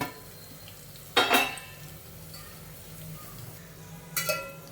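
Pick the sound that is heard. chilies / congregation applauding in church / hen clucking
chilies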